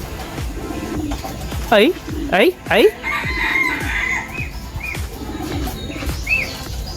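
Racing pigeons arriving at a loft during a derby, with close bird calls and flapping amid busy outdoor noise and a brief spoken exclamation.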